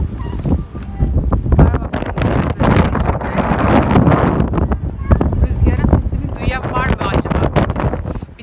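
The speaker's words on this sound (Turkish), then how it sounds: "Hava o kadar rüzgarlı ki uçacağım şimdi." Strong wind gusts outdoors on a city street in Glenview near Chicago, buffeting the microphone with a loud continuous roar, while people talk and laugh over it.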